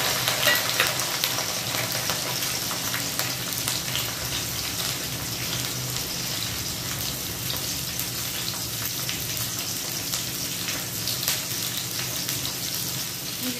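Green chillies and garlic sizzle in hot oil for a Maharashtrian okra stir-fry, giving a steady, close, broadband crackle that holds evenly throughout with no talking.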